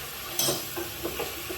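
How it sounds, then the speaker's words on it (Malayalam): Food being stirred and sautéed in a frying pan, with a soft continuous sizzle and a few scraping stirs of the spatula recurring at intervals, close and alone. "ഇനി ഇതൊന്ന് വഴറ്റി കൊടുക്കണം."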